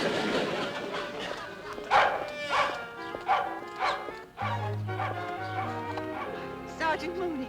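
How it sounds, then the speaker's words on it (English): A dog barks repeatedly in short bursts, mixed with whimpers, while voices talk over it and a low tone sounds midway, in a Dennis the Menace episode. "We gotta make that dog stop barking."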